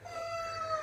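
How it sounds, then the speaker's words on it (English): A cat squeals with a sustained, thin, wavering high-pitched cry, fairly faint and alone against a quiet room. "Excuse that cat squealing."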